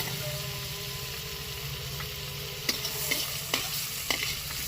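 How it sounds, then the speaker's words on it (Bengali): Prawns fry lightly in hot oil in a pan, a dense continuous sizzle with a low hum beneath, then a few sharp scrapes and clicks of stirring near the end. "চিংড়ি মাছটা হালকা ভেজে"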